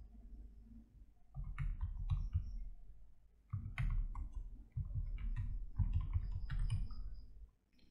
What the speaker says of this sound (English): First, I will type the command,